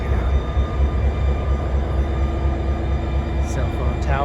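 A train rumbles steadily past at close range, a continuous loud roar of rolling railcars near an antique mall and agriculture museum in Centralia, with a faint squeal near the end.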